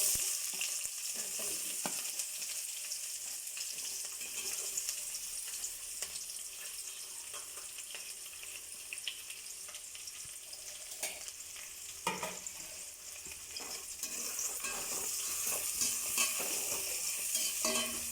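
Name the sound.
onions frying in oil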